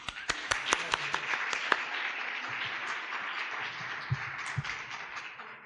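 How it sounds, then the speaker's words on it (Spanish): Audience applause in a lecture hall at a talk on magical beliefs in Cantabria: a steady, moderately distant wash of many hands clapping, with a few sharper claps near the start, sustained throughout without speech. "Un aplauso."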